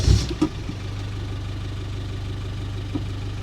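A 1990s Land Rover Defender engine turns over and catches near the start, then settles into a steady, loud low idle that continues unbroken to the end.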